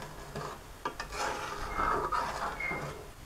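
Milk reduces in a pan while a spoon scrapes and rubs steadily across the bottom, making a soft, continuous rasping stir that stays close and fairly quiet.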